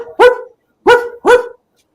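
A man imitates a dog barking with his voice, giving three loud, close yelping barks, one then a pause and two in quick succession.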